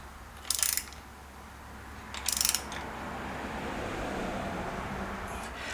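Ratchet wrench tightening a motorcycle rotor nut on a Yamaha-BSA 650 scrambler build, two short bursts of clicking separated by a pause, fairly quiet in a workshop.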